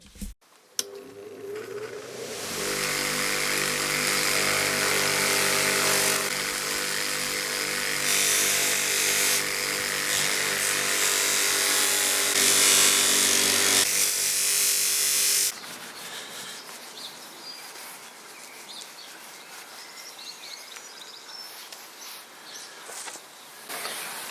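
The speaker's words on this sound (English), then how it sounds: "These hinges were solid brass, so they were ideal candidates to be polished up on the buffing wheel." Solid brass hinges polished on a motor-driven buffing wheel. The motor spins up into a loud, steady whirring rub that runs for about fifteen seconds, then winds down with quieter handling sounds and no talking.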